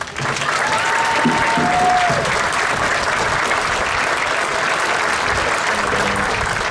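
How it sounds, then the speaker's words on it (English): A large audience applauding at a high school graduation ceremony, dense sustained clapping that stays loud and even for several seconds, with a few faint tones and voices mixed beneath. "Please give them a round of applause."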